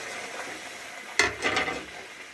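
Slit green chillies drop into spice paste frying in oil, raising a sudden sharp sizzle that crackles in a few quick bursts over a soft steady hiss before settling back down.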